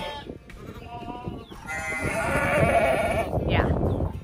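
Sheep in a barn pen with a new hay bunk bleat over a busy, close mix of animal and farm noise, the calls rising from about two seconds into a steady chorus.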